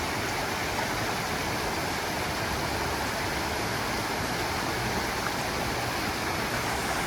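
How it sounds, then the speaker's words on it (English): A mountain creek rushes steadily along an Appalachian trail where two creeks meet, a constant broadband wash of flowing water, fairly loud and unbroken, with no voices. "This is Cherry Creek, and it runs into"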